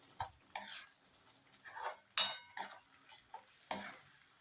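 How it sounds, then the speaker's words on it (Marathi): Spoon stirring veg kurma in a pan after chopped coriander goes in, a series of separate scraping and clinking strokes at irregular intervals, close and moderately quiet, with no talk. "चांगलं मिक्स करून घ्यायचं आहे."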